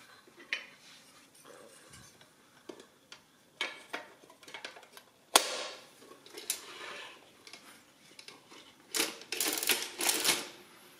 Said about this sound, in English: So that was the Olivetti Summa 15.